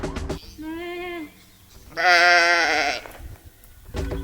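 A person imitating a sheep's bleat at a farm near Mungo National Park, Australia, two loud wavering nasal bleats close to the mic, the second higher and harsher, with brief murmurs between.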